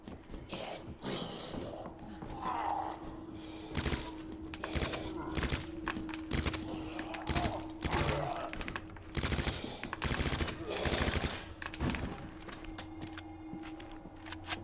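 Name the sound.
gunfire in the video game Resident Evil 2 Remake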